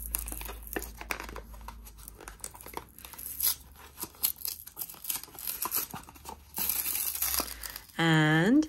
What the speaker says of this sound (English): So you peel this bit.